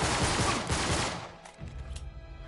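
A burst of gunfire in an Uncharted game, loud and dense at first and then trailing off into scattered, fainter shots.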